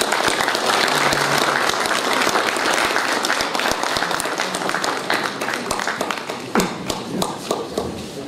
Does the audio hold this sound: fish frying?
no